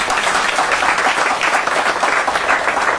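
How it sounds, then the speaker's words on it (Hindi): Dense, even applause from a large audience at a spiritual meditation gathering in Delhi, loud and unbroken throughout with no voices on top. "तालियां बजाओ इन लोगों को।"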